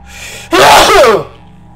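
One loud, close sneeze bursts out after a brief quiet stretch, with a sharp inhaled gasp run straight into a forceful explosive release lasting under a second.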